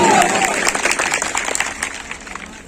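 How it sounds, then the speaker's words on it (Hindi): Crowd clapping loudly at a state-level dance competition on an outdoor stage, a bright dense burst that gradually thins and fades over a couple of seconds, with a voice briefly audible at the start. "जोरदार तालियां बजा दीजिए"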